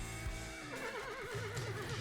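A horse neighs in the Forestry 2017 The Simulation video game, a loud wavering whinny that rises and trembles over steady low game background noise, with no talk during it.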